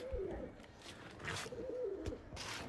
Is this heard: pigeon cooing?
yes